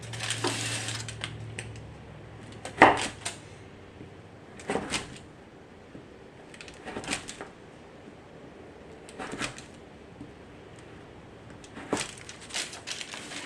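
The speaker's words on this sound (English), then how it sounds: "So I'm cutting it into quarters." A knife cutting homemade old-fashioned fudge into quarters and pieces, giving several separate close thuds and scrapes against the board spread across the stretch, with quiet gaps between cuts.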